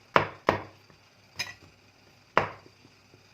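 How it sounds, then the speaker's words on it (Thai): Knife chopping mushrooms on a board for a Thai mushroom curry, a few sharp separate chops spaced irregularly, close and clear with no talk. "เราจะหั่นเห็ดเลยอะ"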